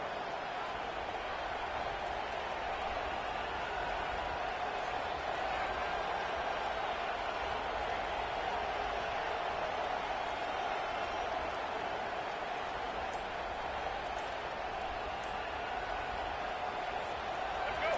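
Dense stadium crowd at a football game roaring steadily and loudly throughout, a continuous wash of cheering and noise with no break.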